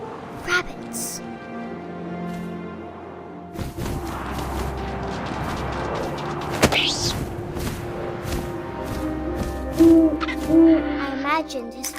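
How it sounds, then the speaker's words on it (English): An owl hoots a couple of soft, low notes late in the What Remains of Edith Finch game scene, under wind-like ambience, scattered thumps and a voice narrating. "And suddenly, I was an owl."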